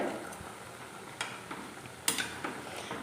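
Evening snacks frying in oil in a pan make a low, constant sizzle broken by sharp clicks and scrapes of a utensil, faint and close, with no one speaking.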